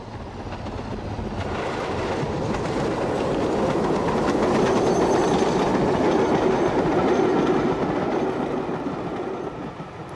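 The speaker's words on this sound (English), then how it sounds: "A Black 5 heads for Marylebone in July 1966." A Black 5 steam locomotive hauls a train toward Marylebone in the 1960s, a steady loud rumble of rolling wheels and clattering carriages that swells slightly and holds for the whole stretch, with no voices.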